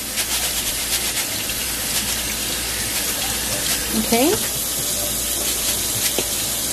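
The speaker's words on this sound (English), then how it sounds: "I'm gonna come with my rice and we're gonna rinse it" Rice being rinsed under a running kitchen tap, a steady broadband wash of water that flows throughout, with a brief spoken word partway through.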